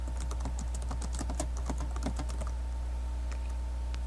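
Rapid, steady typing on a computer keyboard, with clustered keystrokes for about two and a half seconds and then a few sparse taps, heard close up over a constant low electrical hum.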